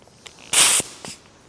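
Short bursts of compressed air hiss from a blow gun while dust is cleared off a fibreglass part before spray painting: one strong sustained blast in the middle, a fainter puff after it and brief light puffs before.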